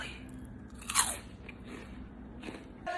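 Homemade salted caramel corn being bitten and chewed up close, with a few distinct crisp crunches spread across a quiet few seconds.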